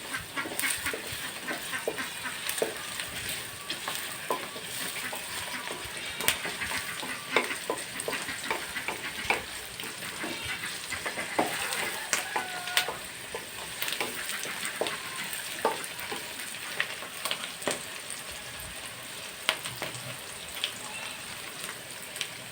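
Small onions, with carrots, stirred and frying together in a pan for quick idli sambar, a continuous moderate sizzle with frequent light ladle clicks and scrapes throughout.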